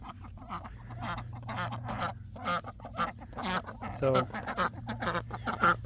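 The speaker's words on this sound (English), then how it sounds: "these are ducks, they're not dung piles." Farm ducks quack in short, repeated, nasal bursts near the microphone, mixed with a person talking over them and a steady low hum underneath.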